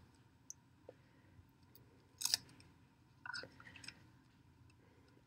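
Parafilm is stretched and pressed onto a Petri plate, producing a few short, quiet crinkling and squeaky bursts against a near-silent background.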